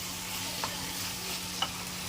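Chicken stuffing for pizza pops fries in a pan with a constant close sizzle, broken by two quick scrapes of a spoon stirring it.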